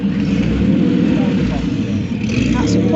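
A red classic Porsche 911 Carrera 4 arrives with a steady, loud engine drone and a rising rev, close by, with voices talking over it.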